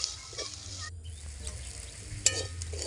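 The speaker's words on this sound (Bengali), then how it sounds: "ভালোভাবে ভেজে নিচ্ছি নুন হলুদ দিয়ে।" Quiet sizzling of mussels frying in oil with salt and turmeric in a pan, with intermittent stirring scrapes and a sharp utensil clink near the end.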